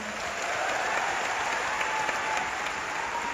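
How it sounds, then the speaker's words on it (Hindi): Audience applause at a success day testimony event, a steady dense wash of many hands clapping throughout, fairly loud and even, with no talking over it. "एक बार उनके लिए जोरदार तालियां"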